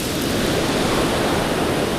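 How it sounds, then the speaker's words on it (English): Steady, roaring wind and crashing surf fill the air on a big storm beach at Chesil Beach in early winter, a dense, unbroken wash of noise with no voices. "Wind is picking up now"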